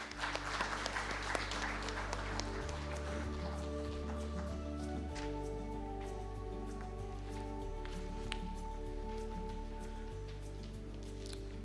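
An audience at an international spacecraft mission conference applauds as a speaker comes to the dais, a soft, steady patter of many hands heard from a distance beneath a low, droning hum.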